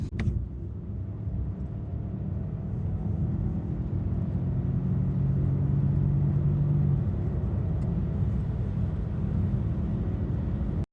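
A 2025 Peugeot 5008 petrol hybrid with an assisting electric motor drives and accelerates, its low, steady engine hum and road rumble heard from inside the cabin, with a faint rising tone midway and no talking.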